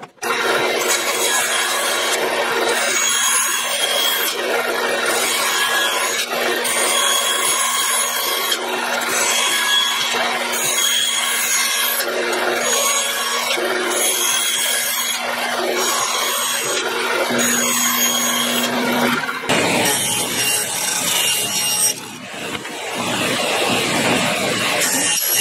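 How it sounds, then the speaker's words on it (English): Bandsaw cutting wooden shelf pieces for a socket rack: a continuous, loud, close rasping whine of the blade through wood, steady for a long stretch with a brief change near the end. "and now I'm just going to get it cut out on the bandsaw."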